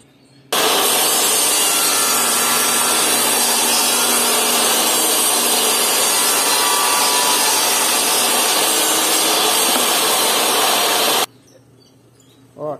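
A sawing machine rips a 40 cm wooden board lengthwise into thin strips for stool legs, a loud continuous whining cut lasting about ten seconds before stopping abruptly, with a short clatter of wood at the end.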